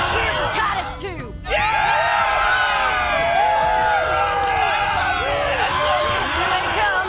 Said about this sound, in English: Let's have a cheer for Titus, too!